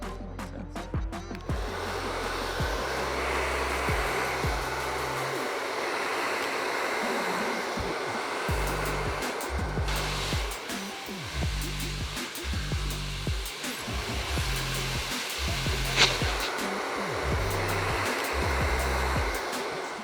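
A hair dryer blows with a steady airy roar while styling a bob haircut, its low hum cutting in and out repeatedly as it is moved or switched.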